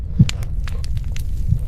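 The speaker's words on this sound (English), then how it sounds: "I can feel my heart pounding through my ribs" A pounding heartbeat sound effect, low and throbbing in steady thumps beneath a faint crackling background, with no voices.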